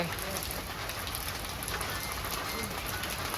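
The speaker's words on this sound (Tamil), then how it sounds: "இப்போ மழையில நனையிறீங்க" Steady rain from an approaching storm patters continuously on a surface, a dense hiss of falling drops at moderate volume with no talking.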